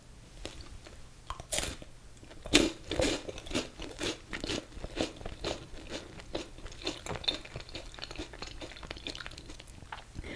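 Crisp biting and chewing of a crunchy Kinder Bueno wafer bar, close to the mic, with loud irregular crunches repeating over several seconds and no talking.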